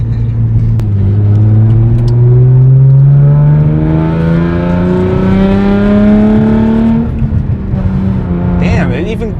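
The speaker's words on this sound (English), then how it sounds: "car sounds fucking amazing." A loud, modified Hyundai Genesis Coupe 3.8 R-Spec engine revs steadily upward in pitch for several seconds, then drops off as it shifts, continuous and close.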